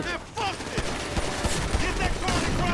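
Loud, dense gunfire rattles through a GTA V bank-robbery firefight, irregular bursts of shots layered under an excited voice talking.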